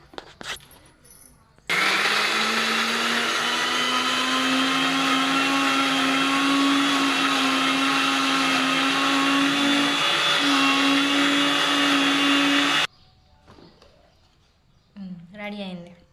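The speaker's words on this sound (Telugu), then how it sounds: "సో ఇప్పుడైతే మనం మిక్సీ పట్టుకుందాం ఫ్రెండ్స్" Electric mixer grinder whirring loudly and steadily for about eleven seconds as it grinds chillies, onion, cumin, salt and flour for a Telangana sarva pindi, with brief quiet kitchen sounds before and after.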